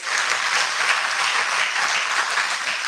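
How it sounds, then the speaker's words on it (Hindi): An audience at a stress-relief talk in Indore claps steadily throughout, dense and even applause with no voices standing out. "तो फिर तालियां बजाइए।"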